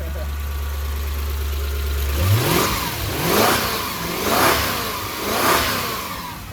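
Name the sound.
Toyota Soarer engine running and revving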